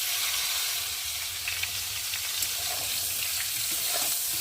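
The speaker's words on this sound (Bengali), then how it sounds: "ওই তেলের মধ্যে আমি এখন কপি রাখা সেদ্ধ করা কপিগুলোকে ভালো করে ভেজে নেব।" Boiled cauliflower pieces fry in hot oil for a Bengali cauliflower dish, giving a steady, close hiss of sizzling with faint crackles throughout and no voices.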